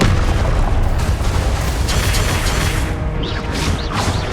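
Confringo explosive spell blasts in Hogwarts Legacy: loud, dense booming bursts one after another in a continuous barrage, with a few whooshing magical tones near the end.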